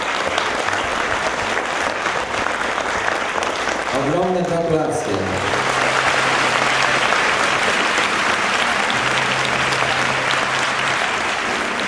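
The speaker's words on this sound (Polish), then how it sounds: "Zapraszamy gromkie brawa dla pani." An audience at a Businesswoman of the Year gala gives the winner a long, loud, continuous round of applause, while a host speaks briefly over the clapping partway through.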